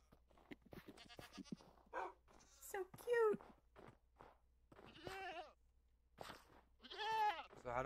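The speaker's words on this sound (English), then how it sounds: "Baby goat." A baby goat gives repeated high, wavering bleats interleaved with people chatting and laughing nearby, the calls fairly close and clear between the voices.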